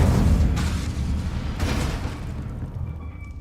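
Incendio fire spell cast in Hogwarts Legacy, a dense roaring whoosh with low rumbling booms that swells and slowly fades over a few seconds, loud and close with no voices.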